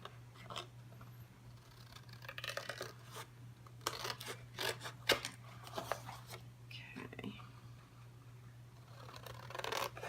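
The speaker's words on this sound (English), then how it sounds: "We're going to cut these corners all the way around so we have a nice neat fold." Scissors snip the corners of a paper mini album, giving a series of short, crisp cuts at irregular intervals under quiet talking, with a low steady hum in the background.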